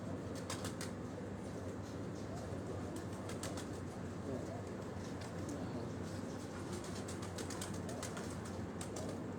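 Pigeons settle onto a rooftop at evening near Rawat Chak Beli Road in Rawalpindi, with faint scattered wing flaps and clicks over a constant wash of background noise.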